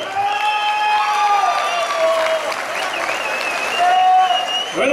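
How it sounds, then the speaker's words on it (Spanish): Crowd applause rises and holds through the stands at a bull riding tournament, a sustained clatter of clapping with whistles and an announcer talking over it. "Si quiere que pase la gran final, venga el aplauso"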